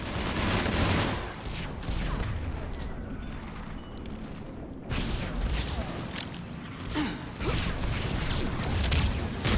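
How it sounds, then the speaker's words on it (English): Artillery strikes and gunfire in the video game Mass Effect 3, heavy booming impacts and rattling bursts of fire in dense volleys, dropping to a quieter stretch mid-way before the barrage resumes loudly. "where are all these artillery strikes coming from?"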